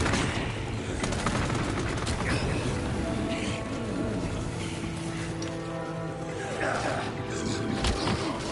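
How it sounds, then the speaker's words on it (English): Rapid continuous gunfire from a mini Gatling gun in the Resident Evil 4 remake, a dense sustained rattle mixed with game sounds and talk. "We know you got your freaking mini Gatling gun."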